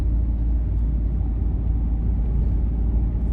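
A car being driven during a driving test gives a steady, close engine and road rumble throughout, low and continuous with no breaks.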